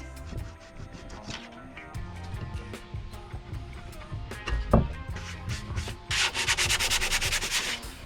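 Rhythmic scratchy rubbing of sandpaper on wooden trim plugs on a timber frame shed, steady strokes that grow louder and faster near the end, with no talking.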